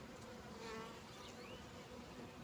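Honey bees buzzing around hives in an apiary, a steady dense droning hum of many insects close by, continuous and fairly faint with no voices.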